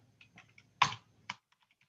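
A password is typed on a computer keyboard: a short, quiet run of soft key clicks, broken by a couple of sharper, louder keystrokes, close up with no talk.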